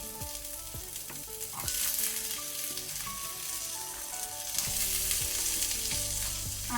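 A small onion fries in a pan over a low flame for chilli chicken gravy, with a steady close sizzle and occasional clinks and scrapes as it is stirred, and no talking.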